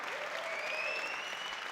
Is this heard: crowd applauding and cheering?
yes